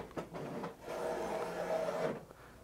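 A Brother fabric printer runs a print job, giving a steady mechanical whir and hum that builds after a few short clicks and holds for a couple of seconds before easing off. It is fairly quiet and close, with no talking.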